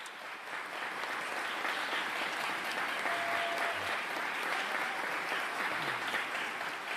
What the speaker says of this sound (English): Let's all give another big round of applause for Beth Clark